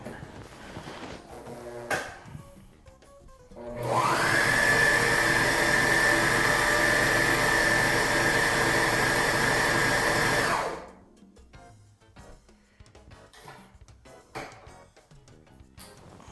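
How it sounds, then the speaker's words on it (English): A Juki MO-654DE serger runs a thread chain, a loud steady high-speed whir that starts abruptly, holds for about seven seconds and then stops, with quieter handling noises before and after. "I'm going to try sewing a thread chain"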